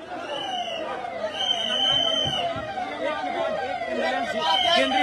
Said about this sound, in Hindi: और एम्बुलेंस आ रहा है